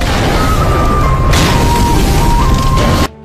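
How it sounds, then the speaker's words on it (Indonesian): A bridge blowing up in a martial-arts action film: a sustained, loud, dense roaring blast that fills the whole stretch with rumble and debris noise before cutting off abruptly. "Hingga pada akhirnya jembatan itu pun meledak."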